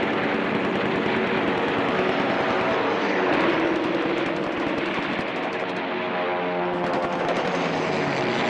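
Fighter and bomber aircraft attack Marcus Island in a dense, roaring wall of engine noise mixed with rapid gunfire bursts, continuous and loud throughout, with no voices.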